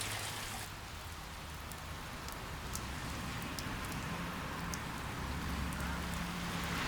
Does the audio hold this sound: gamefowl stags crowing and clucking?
no